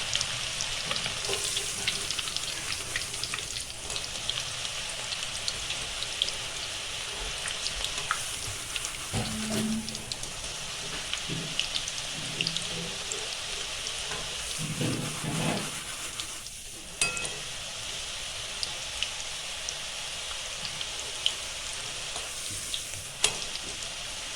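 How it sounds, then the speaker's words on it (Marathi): Green chillies crisping in hot oil for a Diwali chivda crackle and sizzle steadily at close range, with occasional stirring scrapes and soft clunks over the long stretch. "क्रिस्पी होईपर्यंत मिरच्या आपल्याला भाजून घ्यायच्या आहेत"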